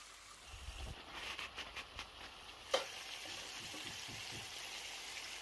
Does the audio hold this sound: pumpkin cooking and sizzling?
yes